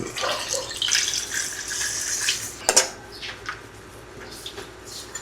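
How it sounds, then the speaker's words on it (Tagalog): Three cups of water pour into a pot of sautéed chicken tinola with a rushing, splashing sound, followed by a clank and a few quieter drips and knocks. "Lagyan ng 3 cups na tubig."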